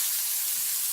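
Food hitting a hot stainless steel pan gives a loud, steady, hissing sizzle that holds level with no pauses throughout.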